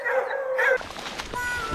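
Hunting hounds howl and yip in a short outdoor burst, a drawn-out howl followed by sharper barks, moderately close and fairly loud.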